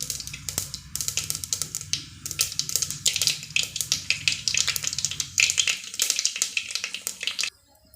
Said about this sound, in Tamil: சீரகம் பொரிஞ்சு வந்ததுக்கப்புறம் ஒரு வெங்காயம்